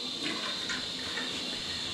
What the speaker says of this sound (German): jetzt machen wir hier Wasser rein